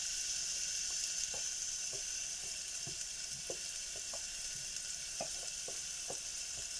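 Ginger sizzles steadily in hot oil in a pan, the start of a chicken tinola. A constant bright hiss runs throughout, with scattered soft clicks from stirring.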